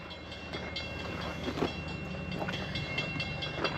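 A train rolls past on nearby railroad tracks, a continuous rumbling drone with rhythmic clacks of wagon wheels, fairly close and steady throughout.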